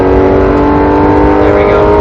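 Porsche 911 GT3 RS engine held high near 8,000 RPM at speed on a racetrack, a loud, steady close-miked mechanical wail with strong harmonics and no letup, with no talk over it.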